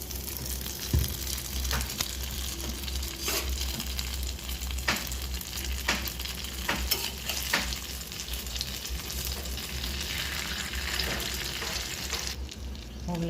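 Homemade mughlai paratha fries in hot oil with a steady, close crackling sizzle, broken by sharp pops and spatters that recur throughout.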